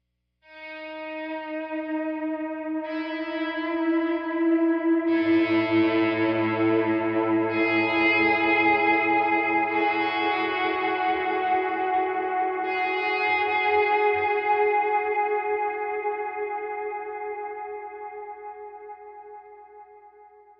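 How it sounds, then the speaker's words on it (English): Electric guitar volume swells played through a washy delay and reverb, worship-style, sustained tones blooming in and overlapping into a lush wash that fades slowly; no voices. "So we're going to go back to our swell tone with the washy delay, keep your other delay on and reverb"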